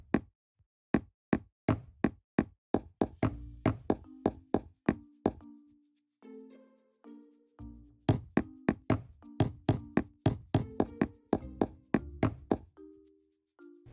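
Dark oak slab blocks being placed while building a castle in Minecraft: a long run of sharp wooden knocking clicks, steady and rhythmic with brief pauses, some with a soft tonal ring after, with no talking.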